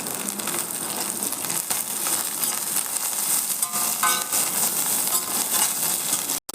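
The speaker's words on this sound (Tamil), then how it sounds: "எப்பொழுதுமே பிரண்டை துவையல் அரைச்சா இந்தமாரி நல்லா வதக்கிடணும்" Pirandai (adamant creeper) sautéing in a pan, a steady dense sizzle and crackle with occasional stirring scrapes, close and continuous, no voices.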